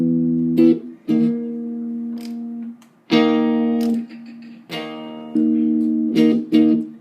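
Sustained electric guitar chords, out of phase, ring out one after another with a hollow, watery, phasey quality, each held for about a second before the next is struck.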